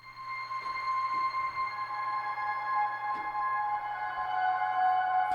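Sustained piano tones drowned in heavy, washy reverb blend into a soft, steady ethereal pad that hangs on without clear attacks.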